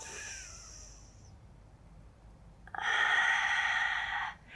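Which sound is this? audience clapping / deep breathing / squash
deep breathing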